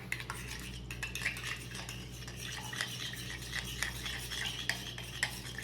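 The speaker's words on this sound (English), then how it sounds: "We're going to mix that all together." A spoon clinking and scraping around a bowl as orange juice, mustard and Worcestershire sauce are mixed for a honey mustard rib glaze, quick repeated taps over a low steady hum, fairly quiet and close.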